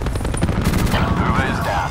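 Rapid gunfire in a multiplayer video game, a dense rattling burst of shots over a continuous layer of game noise and voices, loud and up close.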